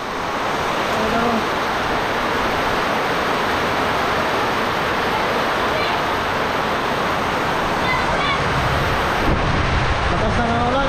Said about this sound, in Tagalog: lakas ng ulan. May hangin pa